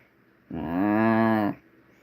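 A Hereford calf in the video game Creature Keeper gives a single clear moo of about one second, a loud, steady, close call that rises in, holds and then stops abruptly against quiet surroundings.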